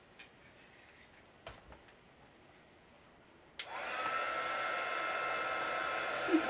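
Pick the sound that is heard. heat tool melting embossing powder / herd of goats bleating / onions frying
heat tool melting embossing powder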